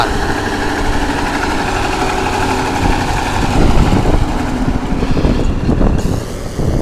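A KhTZ T-150 tractor engine idles with a steady, throbbing mechanical rumble, close and loud, swelling slightly toward the end.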